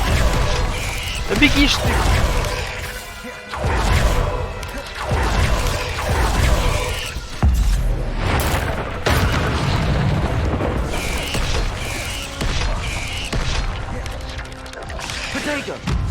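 Repeated Confringo blasting spells go off in Hogwarts Legacy combat, with loud booming explosions and crashes recurring every couple of seconds while someone speaks over the action.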